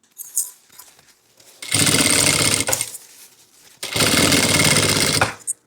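Sewing machine running in two sustained bursts of about two seconds each, stitching through fabric and lining for a thermal panel, with quiet pauses between runs and no voices.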